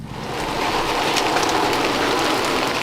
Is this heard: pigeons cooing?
no